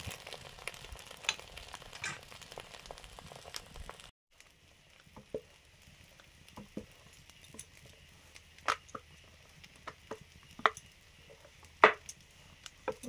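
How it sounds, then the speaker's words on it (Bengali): A paratha deep frying in hot oil as a spoon ladles oil over its top gives a faint, steady crackle and patter with occasional sharper pops, quieter after a brief gap. "আমি পরোটাটা ডুবিয়ে দিয়েছিলাম, আবার একটু ওপর থেকে দিয়ে দিচ্ছি এরকম করে চামচে নিয়ে।"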